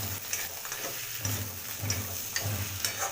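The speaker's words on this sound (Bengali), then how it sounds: "ভালো করে বড়ির সাথে পোস্ত বাটাটা ভালো করে মিশিয়ে নেব।" Lentil dumplings (bori) are stirred into poppy seed paste in a pan, producing a close, steady scraping with soft sizzling and regular stirring strokes about every half second, with no talking.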